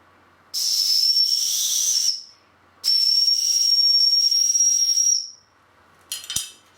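Breath blown across a key makes two long, steady high-pitched whistling tones with airy hiss, each about two seconds, separated by a short pause, followed by a brief faint rustle.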